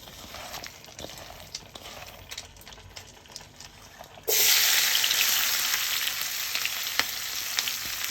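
A pan crackles softly with scattered ticks, then onions and green chilies hit the hot oil in a sudden loud burst of sizzling that keeps hissing steadily up close.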